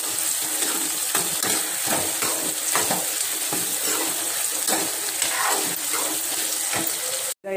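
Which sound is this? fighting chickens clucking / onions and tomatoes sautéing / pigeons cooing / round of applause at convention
onions and tomatoes sautéing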